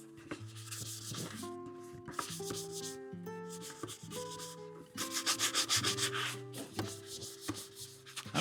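Light hand sanding of a surface makes scratchy back-and-forth rasping strokes, clearest in a rhythmic burst near the end, over tuneful background music.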